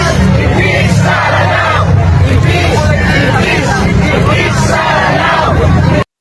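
A large crowd of Filipino overseas workers in Hong Kong shouts and chants against Vice President Sara Duterte, a loud continuous roar of many voices that cuts off abruptly at the end.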